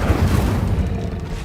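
Fiery whoosh of the Incendio spell in Hogwarts Legacy, a heavy rumbling blast lasting over a second, loud and close, steady and low with no speech.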